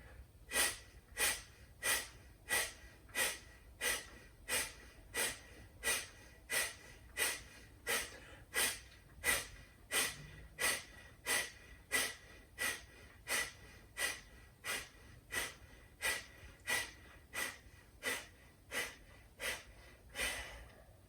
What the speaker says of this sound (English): So let's start with 30 belly pumps.